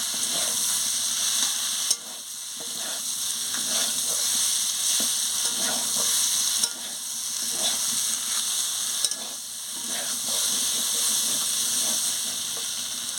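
Turnip, potato and plantain sauté with a spice masala in a pan, giving a steady, loud hissing sizzle with soft scraping stir strokes throughout and no talking.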